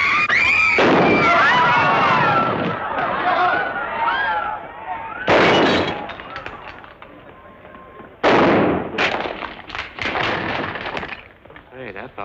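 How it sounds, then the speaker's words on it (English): Gunfire in a 1940 American western film: sharp shots crack out in separate bursts over orchestral score and a chaotic action soundtrack, with loud reports and busy movement between them. "Hey, that fella can shoot."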